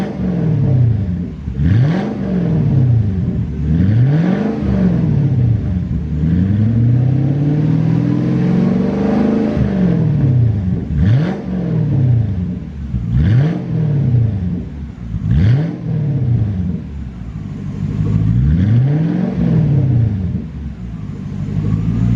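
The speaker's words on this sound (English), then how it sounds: "now we're going to give it a couple revs" A Lexus SC300/SC400 car engine revs repeatedly, each burst rising in pitch then falling back to a rumbling idle, loud and close, about eight revs in a row.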